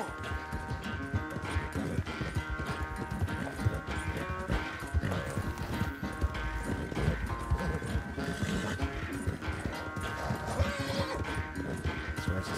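A horse gallops in Red Dead Redemption 2 during a race, hooves pounding in a steady, rapid rhythm throughout, close and continuous alongside music and game sounds.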